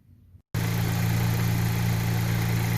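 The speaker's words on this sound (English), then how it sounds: "That is the engine running." A car engine starts after a fuel kit rebuild and settles into a loud, steady idle with a constant low hum and even vibration, close up, following a brief quiet moment with no talking.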